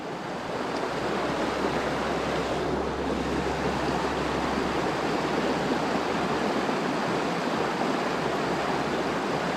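Current of an Alaskan creek flowing steadily, a constant broadband rushing wash with no breaks, close to the microphone and fairly loud, with a faint low wind rumble beneath.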